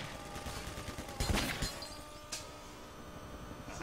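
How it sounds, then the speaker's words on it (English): A grenade blast in the Half-Life 2 PC game, a sharp burst of crashing, shattering noise followed by a second smaller crack, close and loud over a busy background. "Catch a grenade for you."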